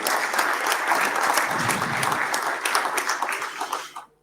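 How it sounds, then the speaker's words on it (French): Sustained audience applause at a talk on high-performance management, a dense steady wash of clapping from a large crowd that fades out near the end. "je vous demande d'applaudir bien fort Philippe"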